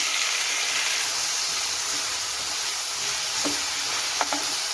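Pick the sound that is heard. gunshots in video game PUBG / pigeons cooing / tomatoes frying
tomatoes frying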